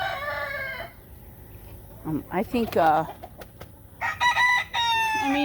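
Mixed farm chickens, including a rooster, cluck and crow in a farmyard, with loud crowing calls near the start and again toward the end and someone talking briefly in between.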